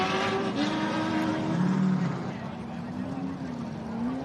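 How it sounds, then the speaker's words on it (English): A V8 race car engine at the Gundy 500 drones steadily with a rising and falling pitch as it shifts through the gears, heard at a moderate distance beneath commentators talking. "Can't really beat a good V8 with a decent gear."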